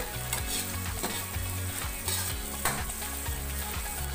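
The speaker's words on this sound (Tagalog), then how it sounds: "ilagay na po natin ang ginger o ang luya patuloy rin po natin itong haluin hanggang sa lumabot po" Ginger frying in a pan while being stirred, a steady loud sizzle with regular scraping strokes of the spatula, close and continuous with no talking.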